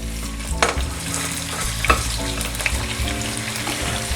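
Roughly chopped ground pepper and onions fry in hot oil for Nigerian nkwobi, a loud, dense close-up sizzle with steady crackling and a few stirring knocks, with no voices.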